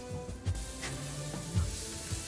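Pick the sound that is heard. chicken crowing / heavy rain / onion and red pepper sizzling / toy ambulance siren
onion and red pepper sizzling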